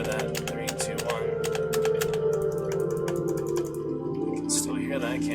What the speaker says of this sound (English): And I can still hear the keyboard.